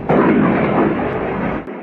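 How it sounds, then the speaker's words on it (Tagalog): A single loud explosion from the Russia-Ukraine war erupts as a broad, rumbling blast that holds for under two seconds and then cuts off, with no voices over it. "na-record ko ang isang pagsabog"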